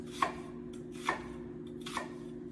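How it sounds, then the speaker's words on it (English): Three crisp, evenly spaced knife chops through onion on a cutting board with a French chef's knife, close and clear over a faint steady background hum, with no talking. "As I'm chopping these vegetables, you'll notice that I'm using a French knife or a chef's knife or a cook's knife"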